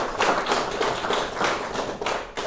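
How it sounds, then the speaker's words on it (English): A small audience claps in a fairly close, uneven patter of taps with a few louder hits, sustained at an even level before a tech talk on agility. "A big round of applause."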